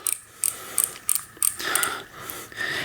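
A bicycle freewheel mechanism is turned by hand while being oiled, giving a series of short, close ticking and clicking bursts followed by a softer, smeared whirring rattle with no talking.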